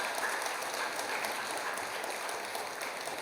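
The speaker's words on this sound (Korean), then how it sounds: "먼저 환영의 인사를 같이 한번 박수해 주실까요?" A church congregation at a Sunday worship service applauds in welcome, a steady wash of many hands clapping at moderate volume, even and continuous, heard from a slight distance in a large hall.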